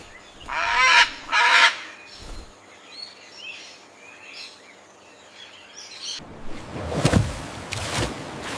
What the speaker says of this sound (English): It's an orca dolphin.